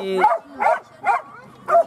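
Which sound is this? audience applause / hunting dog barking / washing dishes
hunting dog barking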